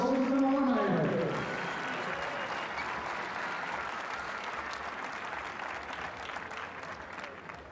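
Applause from an audience at a trap-shooting competition's shootdown, a steady broadband patter of many hands clapping that follows a brief opening voice and continues at an even level throughout.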